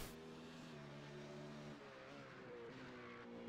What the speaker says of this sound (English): his engine sounds sick